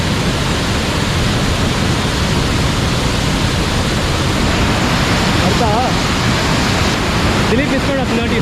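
Kaigal Falls in full flow, swollen with monsoon water, a loud, dense and unbroken roar of falling water close by, with faint voices barely audible beneath it.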